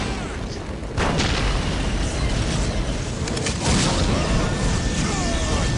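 Basilisk artillery fires in Dawn of War Soulstorm, landing as repeated heavy booms and crashing impacts in a dense battle din, with a strong hit about a second in and more blasts later.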